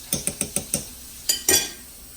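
A spoon knocks and scrapes against a Dutch oven while tomato paste is stirred into roast beef and vegetable soup: five quick evenly spaced clinks, then two louder scraping strokes, close and alone.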